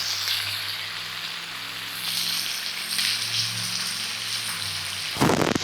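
Chopped onion sizzles steadily in a hot pan, a loud constant hiss with a sharper crackling burst near the end.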